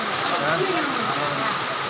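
Steady rain falls with a dense, even hiss that holds at the same level throughout the short stretch, with a faint voice underneath.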